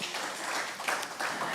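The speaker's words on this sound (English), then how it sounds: "I believe it deserves applause as well." Audience applause at a fireside session of an energy conference, a steady dense wash of clapping that runs unbroken for the whole short stretch at moderate level, with no voices over it.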